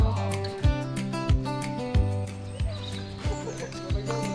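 Horses at May Villa riding resort near Hanoi walk along with regular clip-clop hoofbeats, about one every two-thirds of a second, fairly close over a steady low background.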